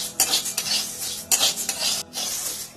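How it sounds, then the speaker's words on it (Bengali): Moong dal being dry-roasted in a pan, stirred steadily; the pan and spatula scrape and clatter continuously in dense, close bursts with a few brief pauses, and no one speaks. "প্রথমে মুগ ডালটা শুকনো খোলায় ভেজে নেব।"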